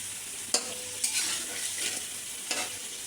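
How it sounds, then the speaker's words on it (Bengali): Koi fish and radish sauté in a pan. Several sharp scraping stirs land over a soft, steady sizzle, close up and with no voices. "তো এখন একটু নাড়াচাড়া করে নিয়ে হালকা করে কষিয়ে নেব।"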